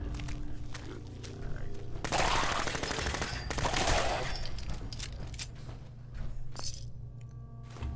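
Rapid gunfire in Fallout 4 aimed at a ghoul, dense bursts of loud shots clustered mid-clip over a steady game background, with quieter pops before and after.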